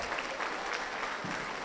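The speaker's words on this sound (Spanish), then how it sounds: "Dale un aplauso a la gloria de Dios." Applause from a church congregation fills the room, a dense, even patter of many hands clapping continuously throughout.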